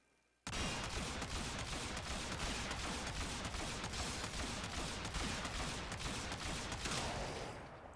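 A Bombard kit gun firing in Warframe, starting abruptly after a short quiet moment, then a loud steady stream of rapid automatic shots that runs for several seconds and tails off slightly at the end.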